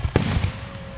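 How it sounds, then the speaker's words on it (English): A firework goes off outdoors on a summer evening, one sharp bang near the start followed by crackling rumble and a steady background hiss, with no talking. "Oh, that tricky firework."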